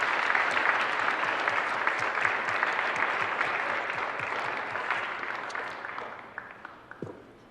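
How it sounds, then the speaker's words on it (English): Applause from an audience at a high school speech and drama awards ceremony honoring large group speech letter winners, a dense steady clapping that fades gradually toward the end, with no voices over it. "a final applause for all our large group speech letter winners"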